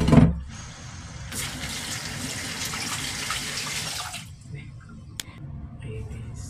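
Tap water running over fish being washed for soup, a steady splashing stream through the middle seconds with a knock at the start and quieter handling sounds after the flow stops.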